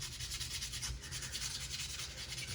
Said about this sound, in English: under hand sanding the knife